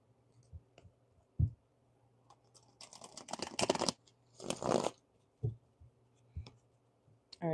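Tarot cards are shuffled by hand in a quiet room: a few soft taps and clicks, then two dense riffling bursts, followed by scattered light clicks.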